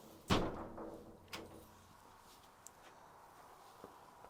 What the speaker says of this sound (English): when he shut this door.